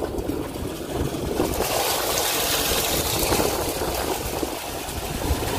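Water from a tanker pours into a storage tank, a steady close rushing and splashing stream with a low engine or pump rumble running underneath the whole time.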